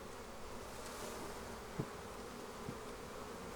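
Honeybees being put into a hive make a faint, steady buzzing hum that continues throughout, with a couple of soft knocks as the frames go in.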